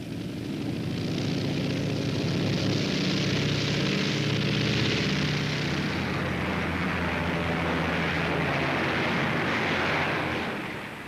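Continuous low droning of aircraft engines from a WWII-era bomber flight, steady and loud throughout with no talk, a dense rumbling propeller hum swelling slightly midway before easing off at the end.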